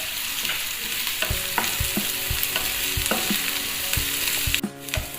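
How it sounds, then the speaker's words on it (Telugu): Gobi manchurian fries with green chillies and curry leaves over a high flame, a dense, loud sizzle punctuated by regular knocks and scrapes of a spatula stirring in the pan. "ఫ్రై చేసుకుంటున్నాను."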